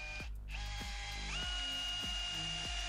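A Bosch AdvancedImpact 18 cordless combi drill drives screws, holding a steady close whine broken by regular clicking ticks about every half second, with no talk.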